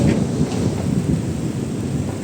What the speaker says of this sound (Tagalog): Madulas na, kasi umuulan na